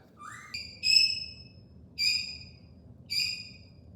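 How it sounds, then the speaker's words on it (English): Birds give alarm calls outdoors: three bursts of sharp, whistled notes, each rising and then holding steady, about a second apart. A low steady rumble runs underneath, and no one talks. "The birds are freaking out."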